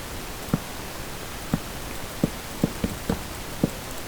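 Rain falling in Minecraft, a soft steady patter with several distinct drips landing at irregular moments, quiet and close with no voices.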